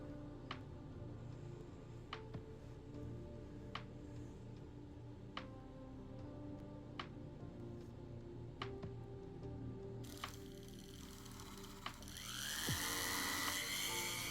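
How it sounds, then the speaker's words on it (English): A small rotary polishing tool works the inside of an engagement ring, giving a steady mechanical drone with regular ticking clicks. Near the end the whine rises sharply into a brighter, louder grinding. "this is a technique I have that's what I call thrumming, and it's basically I'm polishing the inside of the ring"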